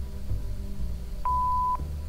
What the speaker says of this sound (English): so just leave a message after the beep